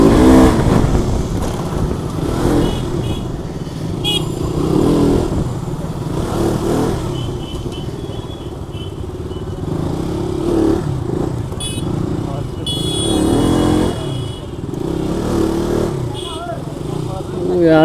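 Busy road traffic with motorcycle and car engines revving and passing close by, while a person talks over the din.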